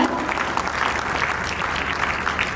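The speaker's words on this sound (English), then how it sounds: "Can we give a big round of applause for that?" Steady, loud applause from an audience, continuous clapping throughout.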